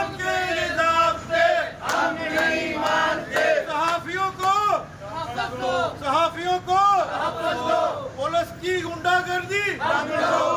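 Journalists at a protest in Pakistan chant loud slogans against the CIA police, the voices of a crowd rising and falling in rhythmic bursts of shouting throughout.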